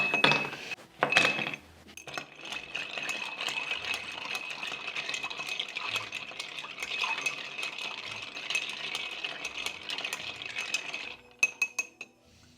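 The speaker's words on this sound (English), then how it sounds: "we're gonna add some ice and give it a stir to chill everything down" Ice being stirred in a mixing glass for a bourbon cocktail, a few sharp clinks as ice drops in, then a steady rapid rattle and jingle of cubes against glass, close and clear, ending in scattered taps.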